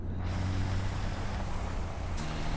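A truck in the game Satisfactory drives with a steady loud engine rumble and a hissing burst near the end.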